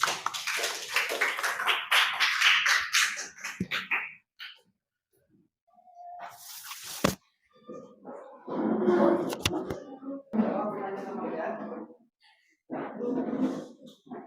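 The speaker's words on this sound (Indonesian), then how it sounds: "Kasih aplaus untuk kelompok 3." Applause for group 3 in an on-the-job training class, with scattered claps in a burst at the start, then pauses and further bursts of mixed noise and clapping, moderately close.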